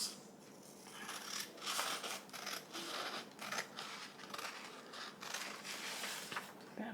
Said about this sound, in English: I'll cut this side off first